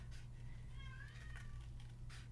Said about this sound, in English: you may be able to hear the other cat outside my door.